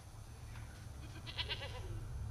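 Goats bleat a few times in quick, wavering calls near the middle, fairly faint over a steady low background hum.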